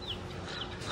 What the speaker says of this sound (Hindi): तो यार हमने फाइनली अपनी मुर्गी को पकड़ लिया है